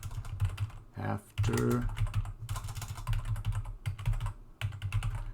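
Typing on a computer keyboard while C++ code is entered, a close, steady clatter of keystrokes in bursts with short pauses, and a voice briefly speaking in between.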